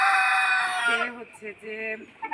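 A rooster-like call followed by several short, nasal clucks from a large 9 kg tiger-breed chicken, close by, with a voice speaking alongside.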